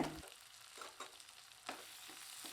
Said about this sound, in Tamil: இப்போ இதையும் நல்லா வதக்கி விட்டாச்சுங்க